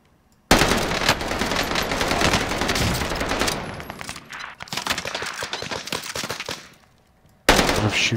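Gunfire in a shooter video game, bursts of rapid automatic shots in two long volleys with a short pause between, then a fresh burst at the end, loud and close with no talk.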